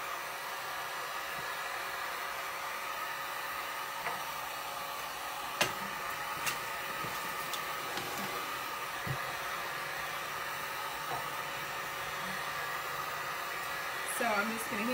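Heat gun softening a bendable wood piece for a silver tray makeover, a steady even whooshing roar running throughout with a few faint clicks and taps.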